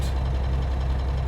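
A Kenworth truck engine held at raised revs, a steady low diesel drone with a throbbing pulse, close and continuous for a brief moment without talk.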